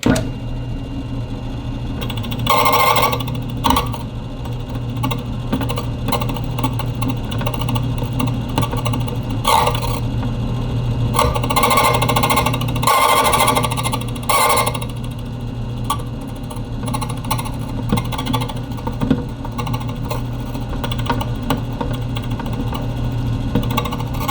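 An HPC Speedex key cutting machine grinds a key blank, its motor running steadily throughout while the cutter bites in several loud, rasping bursts of a few seconds each, close up, with no voices.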